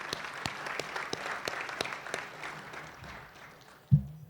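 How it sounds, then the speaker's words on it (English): Audience applause at a university athletics senior celebration honoring a coach, steady clapping from a crowd that fades out over a few seconds before a brief thump at the end. "can everyone give Coach Dicker one more round of applause?"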